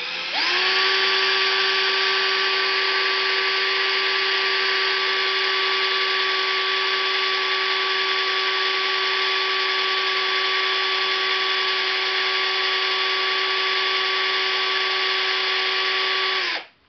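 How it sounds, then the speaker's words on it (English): Basic electric screwdriver spinning to lap the valves of an Enya 90 4C model engine, a loud steady whine held for about sixteen seconds before cutting off. "And I will use the basic electric screwdriver."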